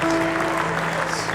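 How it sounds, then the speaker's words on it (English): A studio audience gives a singer a brief burst of applause, a dense, close wash of clapping that stays steady throughout, with a voice speaking over it. "Big round of applause."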